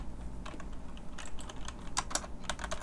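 Someone types code on a computer keyboard in quick irregular bursts of clicking keystrokes, close and fairly quiet, with no talk.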